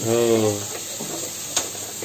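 Onion frying in oil for a dal palak and potato meal, a soft continuous hiss and sizzle close by, briefly under a voice at the start and a sharp clink midway.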